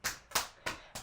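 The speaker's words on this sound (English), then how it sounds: "hit your foot like you're high-fiving or you're clapping" Four distinct hand claps land against a lifted foot in an even rhythm during a breathwork flow exercise, close and fairly soft, each a sharp slap with a short decay.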